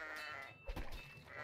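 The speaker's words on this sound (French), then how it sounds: "Pendant que ça se fight, on va faire éclater des moutons." Sheep in the Kingdom Rush game bleating and popping, with a short burst of bleating sound in the middle over a busy background of game music.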